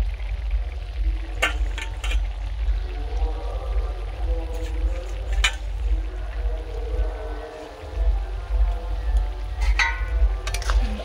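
Fried bele fish is slipped into a simmering potato curry in a pan, a soft bubbling and gentle sizzle running throughout, with a few sharp clinks of utensil against the pan, close by and without speech.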